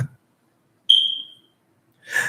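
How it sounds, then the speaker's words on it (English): A smoke alarm gives a single sharp, high beep that rings out and fades in a quiet room, followed shortly by a brief voice. "Fix that smoke alarm."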